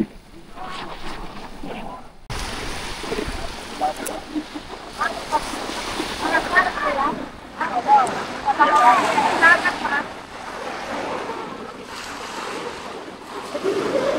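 Ocean surf rolls in at a Canadian beach at Big Tree Park, a steady wash of waves with wind buffeting the microphone, while people chat nearby throughout.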